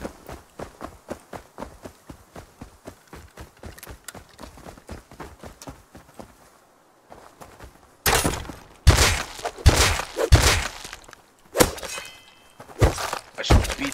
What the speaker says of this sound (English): I shall beat you with a bone of your own